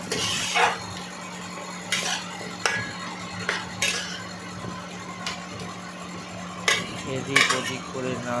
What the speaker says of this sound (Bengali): এদিক ওদিক করে নাড়াচাড়া করলাম